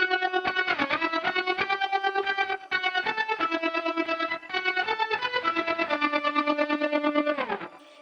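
An electric guitar through a Fractal processor plays sustained chords with a rapid, throbbing pulse running through the tone, steady and fairly loud, ending in a brief fade.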